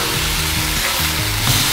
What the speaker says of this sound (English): Time to flip the patties.